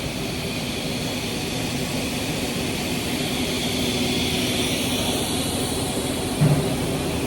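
Optical fiber cable manufacturing machines, a hot stage and a cool stage drawing fiber, run in a factory as a steady loud broadband roar with a constant mechanical hum and no speech.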